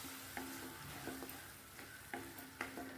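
Tamarind water and tomato sauté in a pan for spinach dal, a soft steady sizzle with several sharp clinks of a spoon against the pan scattered through, fairly quiet and with no talking.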